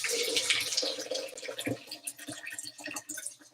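Warm, lukewarm water that had been boiled is poured for a ginger drink, about two cups, giving a steady splashing, trickling flow that runs continuously throughout, close and fairly loud.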